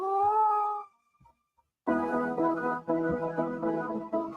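A cat meows twice, close and clear: a short, bright meow, then a pause of near silence, then a longer, drawn-out meow.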